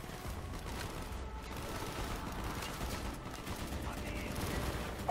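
Sustained gunfire in the Call of Duty Black Ops shooter, steady dense rattling volleys that continue through the whole stretch beneath a constant battle din, with no clear gaps between shots.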